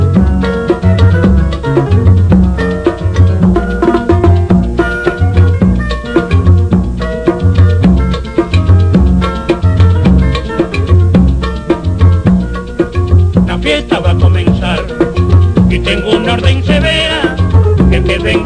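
A song plays loud and full, with a driving rhythmic beat and layered instruments that run steadily throughout.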